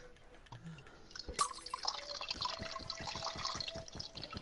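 Water drips and sloshes in a toy water tanker being played with indoors, a sharp splash followed by a steady run of close, rhythmic drips.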